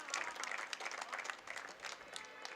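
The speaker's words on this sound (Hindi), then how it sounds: "एक बार ताली बजा दीजिए," Audience applause at a Hindi poetry gathering during a Holi-themed recital, a steady wash of many hands clapping that swells and dips slightly, fairly faint and distant, with no voices over it.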